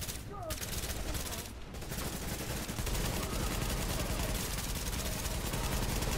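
Sustained automatic gunfire in The Division video game, a dense, continuous loud barrage of rapid shots filling the whole stretch with little break.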